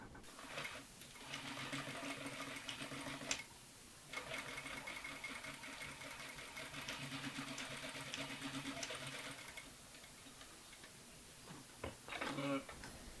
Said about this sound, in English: Sew the shorter ends of the belt closed, right sides together with 1/2 inch seam allowance.